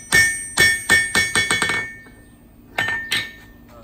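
A blacksmith's hammer strikes straight down on an anvil in a quick run of about eight ringing metallic blows, loud and close, followed after a pause by two more strikes, with no talk.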